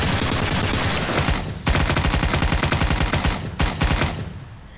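Rapid automatic gunfire in Garry's Mod comes in long dense loud bursts of continuous shots, broken by two short pauses and trailing off at the end, with no talk over it.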